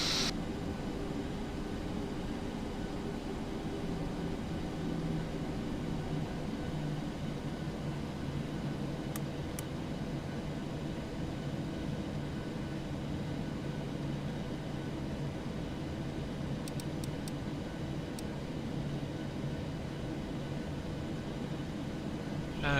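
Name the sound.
Ryanair Boeing 737-800 aircraft preparing for takeoff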